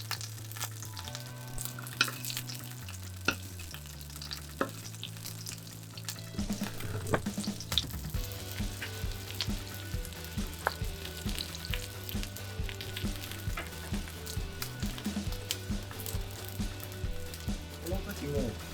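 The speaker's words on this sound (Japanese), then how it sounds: "この焼き油を身の方にかけてふんわりと焼き上げてあげると仕上がりの精度が上がります。" A fish fillet fries skin-side down in a pan while hot oil is spooned over the flesh, giving a steady close sizzle and crackle with light spoon taps, and someone talks throughout.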